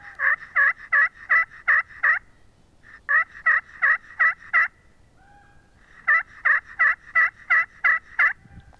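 A Buck Expert slate turkey call played on its back side gives three loud, close bursts of rapid yelps, each about seven notes, separated by short pauses.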